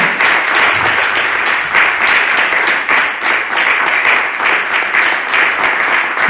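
A church congregation applauds for Jesus during a sermon, with many hands clapping loudly and steadily, a dense roar of applause that carries on for several seconds without talk.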